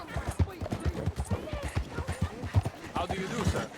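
Rhythmic hoofbeats of a galloping horse in Red Dead Redemption 2, a steady clip-clop running throughout under game dialogue and other voices.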